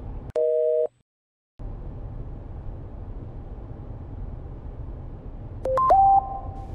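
A phone busy tone after a call is cut off, heard as a short steady beep, a brief silence, then a faint line hiss and a few further electronic tones near the end.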